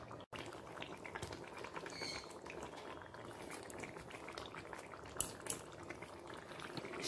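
Katla fish curry with fresh winter vegetables bubbles gently over a low flame, giving a soft, steady simmering burble with faint sputters and a light clink near the end.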